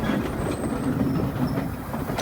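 A mini train rolls along old rails in the mountains of Wulai, Taiwan, giving a steady close rumble with a soft clickety-clack and faint wheel squeal, no voices.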